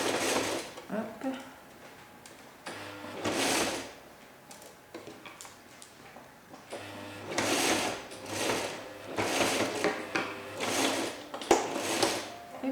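A sewing machine stitches along elastic on baby harem pants in several short bursts of whirring needle action, separated by pauses with light handling noise and occasional quiet talk.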